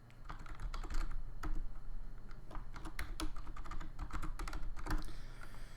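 Keystrokes on a computer keyboard as a password is typed at login, a steady run of light clicks with a few louder taps over a constant low hum, no voices.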